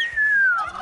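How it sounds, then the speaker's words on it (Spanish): A man whistles to call turkeys: one clear, loud gliding whistle that slowly falls in pitch over under a second, alone with no talk. "Les silba y cantan todos."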